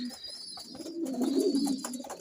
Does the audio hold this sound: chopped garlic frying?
no